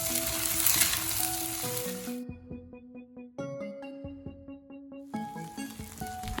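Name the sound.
basmati rice sizzling as it is stir-fried for egg fried rice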